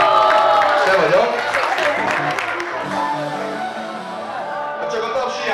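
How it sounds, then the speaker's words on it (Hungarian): Applause for a costumed child at a school carnival dress-up party, a full burst of clapping and crowd noise from a room of children and adults, loud and fairly close, with voices mixed in throughout. "Nagy tapsot neki."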